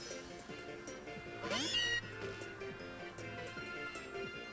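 Meowth's cry from the video game Pokémon Moon, a short rising cat-like meow over steady in-game background music, with no talk.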